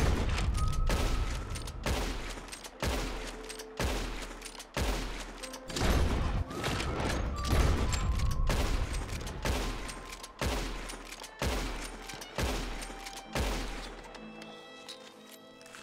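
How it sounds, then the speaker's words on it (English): Rapid volley of gunshots from a revolver-style gun in the Red Dead Redemption 2 video game, about a dozen loud sharp cracks fired in quick rhythmic succession, ending in a brief tail of game ambience. "I show you how I shoot my gun, all 7 bullets"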